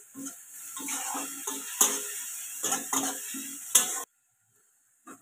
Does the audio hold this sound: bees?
no